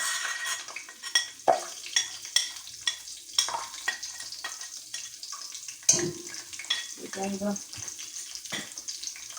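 Spices sizzle and crackle in hot oil while a spoon stirs and scrapes the pan in a steady rhythm, close by, with faint background voices, while frying masala for beef nihari.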